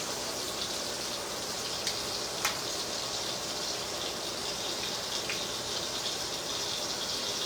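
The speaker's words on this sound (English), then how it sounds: "You love the sizzling sound coming today." Mediterranean chicken and rice sizzles in a hot pan with a steady, even hiss and a few faint clicks, continuous throughout with no talking.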